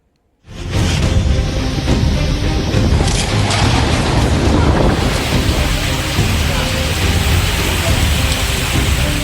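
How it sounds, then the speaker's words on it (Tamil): Sudden summer rain driven by strong gusty wind over Chennai's suburbs, starting abruptly after a brief silence and holding as a loud, dense, continuous roar of wind and pouring rain. "மாலை ஐந்து மணி அளவில் திடீரென சூறை காற்றுடன் மழை பெய்த காட்சிதான் இது"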